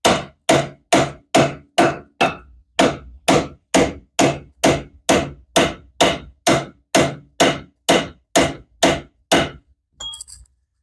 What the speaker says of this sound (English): don't hit your ball joints with a hammer